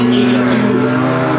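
A Honda Prelude race car engine drones at qualifying, a loud sustained steady tone under a track announcer's voice.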